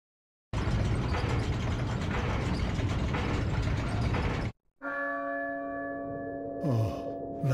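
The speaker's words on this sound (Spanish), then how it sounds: "Oh, la campana." Church bell tolling in Resident Evil 4, following a loud grinding mechanism with ratcheting gears that cuts off, then a resonant bell strike rings out with a long sustained hum and further clanks.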